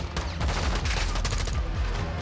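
Rapid bursts of automatic gunfire from a shooting fight in the Modern Warfare II campaign, loud and close, firing in quick volleys with short gaps and only a faint trace of voice beneath.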